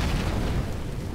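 An incendiary grenade in CS:GO erupts into a loud, rumbling whoosh of fire, a single continuous low roar with no voice over it.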